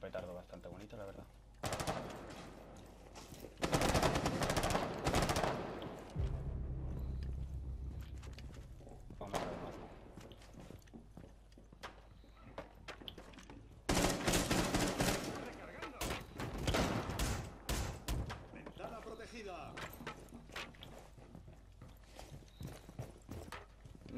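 Automatic gunfire rattles in Rainbow Six Siege, coming in loud dense bursts separated by quieter stretches with scattered single shots and in-game movement noise.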